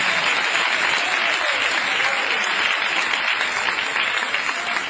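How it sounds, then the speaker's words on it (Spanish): A church congregation applauds loudly and continuously on a Sunday morning, a thick, even roar of clapping hands that barely wavers across the stretch, with no talk over it. "Dale ese aplauso al Rey en esta hermosa y maravillosa mañana"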